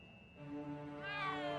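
A cat in the Back to the Future episodic game gives one drawn-out, rising meow, close and clear, with nobody talking over it.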